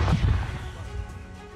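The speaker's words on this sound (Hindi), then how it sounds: "दरअसल इस वीडियो में जिस 155 होविट्ज़र का इस्तेमाल हो रहा है वो घातक हथियार यूक्रेन को इटली और एस्टोनिया से मिले" 155 mm howitzer artillery firing in the Ukraine war, a loud booming blast at the start that rolls into a long, fading low rumble, with no voices.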